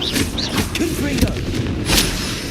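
A Confringo fire-blast spell in Hogwarts Legacy erupts in loud booming, gunshot-like bursts amid constant combat noise, with a sharp impact near the middle and another surge toward the end, and voices throughout.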